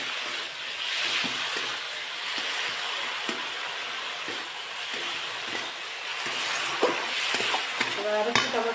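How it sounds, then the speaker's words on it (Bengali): Paneer cubes fry for chilli paneer in a pan, giving a steady hiss broken by scraping, clinking spatula strokes that grow busier near the end, with no talk. "মোটামুটি ভাজা হয়ে গেছে, আমি কিন্তু বেশি ভাজবো না"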